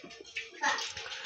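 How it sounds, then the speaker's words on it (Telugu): Water poured into a pan holding milk while making carrot halvah, a brief splashing trickle over about a second, with a voice speaking over it. "సమ్ వాటర్ కూడా పోయాలి."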